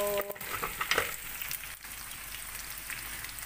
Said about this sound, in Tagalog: Fried natin yung onion.